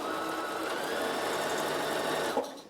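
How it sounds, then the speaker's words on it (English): A Bernina sewing machine set to stop with the needle down stitches fabric in a steady, even whir for a couple of seconds, then halts with a short click. "If I push it and I sew along, my needle will stop up."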